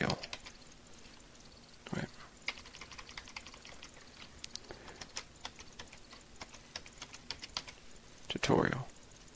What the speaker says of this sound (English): And we're just going to type in.